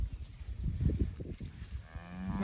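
Cattle, cows and calves, low and close during a morning drive to fresh pasture, mooing in several deep, drawn-out calls over rustling outdoor noise.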